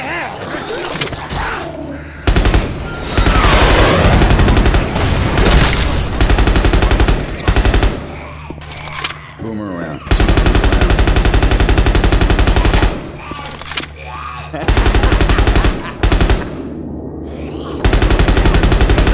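Machine-gun fire in the video game Left 4 Dead 2: loud, sustained automatic bursts broken by brief pauses, with voices talking over the shooting.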